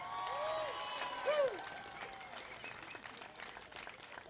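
An outdoor crowd at a Pacific arts festival gives continuous applause and clapping for New Zealand performers, moderately distant, with scattered cheers and whistles over steady rain.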